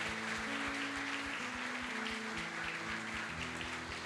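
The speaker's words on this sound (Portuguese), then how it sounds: "Vamos aplaudir a vida deles em nome de Jesus?" A church congregation applauds with steady, faint clapping over music carrying a regular low beat and sustained tones.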